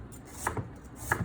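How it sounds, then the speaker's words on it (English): A knife slices an onion into even julienne strips on a cutting board, giving two crisp, close chopping strokes with no talk. "cut it just on that angle like that. So you end up with really beautiful, all even julienne onion"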